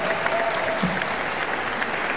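An audience applauds steadily as children from a primary school choir walk onto the stage at a music event, a continuous wash of clapping from a sizeable crowd.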